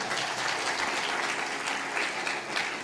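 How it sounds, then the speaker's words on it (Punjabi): An audience at a sermon breaks into continuous, energetic clapping that fills the room at an even, moderate level from start to finish, with no voice over it. "ਤਾਲੀ ਮਾਰੀਏ ਜ਼ੋਰ ਦੇ ਨਾਲ।"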